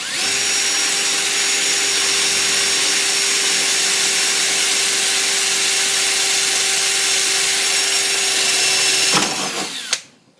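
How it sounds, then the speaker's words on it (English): A power drill whines loudly and continuously up close, boring a hole through a Jeep YJ dash using a template, then winds down and stops with a final clatter. "go ahead and drill the top left hole"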